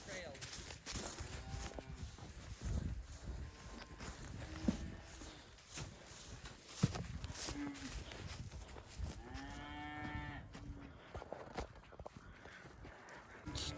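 Cattle mooing repeatedly on open farmland as a herd moves over a hill, several long lowing calls near and far, with people talking intermittently in the background.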